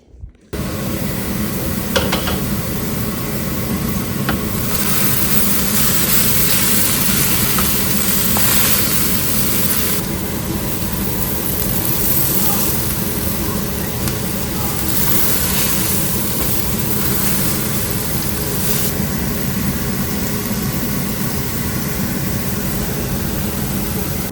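Engine of a marshrutka minibus during a ride, a loud continuous low drone and rumble with a steady hum, close and unbroken, with no talking.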